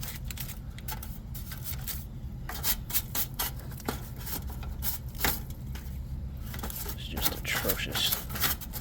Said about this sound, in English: I'm gonna get a brush and brush up all these cobwebs and all this gunk off of here